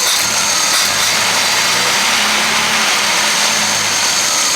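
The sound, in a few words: six-cylinder car engine idling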